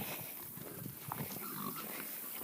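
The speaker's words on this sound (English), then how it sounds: "I think we're going to show you our other hogs that we have." Hogs on a Missouri farm, among them sows, grunt and shuffle close by, soft scattered snorts and low grunts over a murmuring outdoor background.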